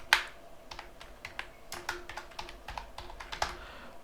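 Keys on a computer keyboard clatter in quick irregular bursts of sharp taps at close range, typing text into code, with no talking.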